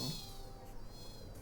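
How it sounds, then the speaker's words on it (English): A faint, thin stray cat meow in a RuneScape 3 video game rises over a quiet electronic background hum, brief and distant. "a stray cat darts out and intercepts you. Meow!"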